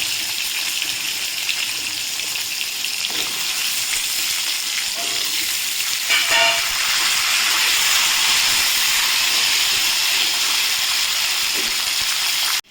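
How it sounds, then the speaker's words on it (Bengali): Pieces of elephant foot yam and potato fry in a pan, giving a steady, broad hiss and sizzle that runs evenly throughout, with a brief clatter near the middle and no talking. "এবারে আমি ওলটা আর আলুটাকে দিয়ে দিচ্ছি একটু ভেজে নিতে হবে ভালো করে"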